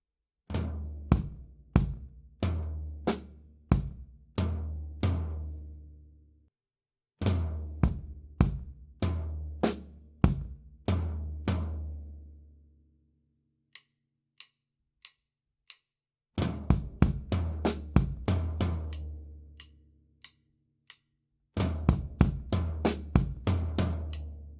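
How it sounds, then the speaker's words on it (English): A linear drum groove played on the floor tom, in close, loud bursts of rapid booming tom strokes with bright cymbal accents. The bursts are separated by gaps, and a few quieter isolated taps fall in the middle pause. "And then if we're going to play the second block that continues on from there on the floor tom,"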